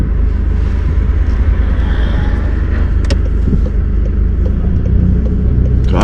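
A learner driver's car pulls away from the curb on a driving lesson, a low steady engine rumble filling the cabin at close range with little change in level.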